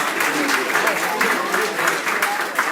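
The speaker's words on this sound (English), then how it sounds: "Big round of applause, folks." Audience applause at a Three Kings Day Parade breakfast ceremony, a dense, steady burst of clapping from a crowd filling the whole moment, with a voice faintly under it.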